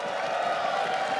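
A large arena crowd at the 2015 League of Legends All Star event, a continuous roar of cheering and applause that stays steady and fairly loud, with whoops rising from the mass of voices.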